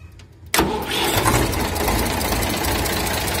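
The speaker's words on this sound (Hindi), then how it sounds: "सबसे पहले ट्रैक्टर स्टार्ट करते हैं।" A heavy tractor engine cranks and catches after a short quiet moment, then settles into a loud, rough, rumbling idle close by.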